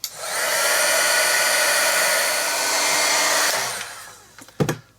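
A hair dryer blows steadily on freshly painted watercolour fruit for about four seconds, a loud even whoosh that cuts off, followed by a few light clicks and knocks.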